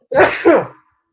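A single sharp sneeze, a quick two-part burst up close, followed by silence.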